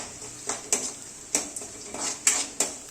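Salt, dried red chillies and curry leaves being sautéed in a pan, heard as repeated scraping and clinking strokes of a spoon against metal at an uneven rhythm over a faint background sizzle.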